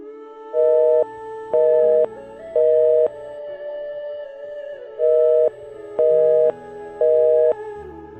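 An engaged phone tone sounds as a call fails to connect, repeating short loud beeps in two sets of three over a steady background hum.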